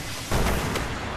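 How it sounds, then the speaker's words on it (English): A bazooka fires in the video game Destiny, one sudden, loud, booming blast followed by a dense, noisy rumble that fades slowly. "I got a freaking bazooka, that's what I have"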